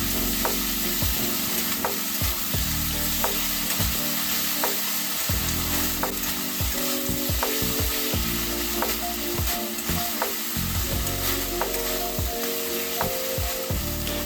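Tomatoes with ginger-garlic paste sizzle loudly in a pan for a masala mushroom dish, a steady close frying hiss broken by repeated scraping and stirring knocks throughout.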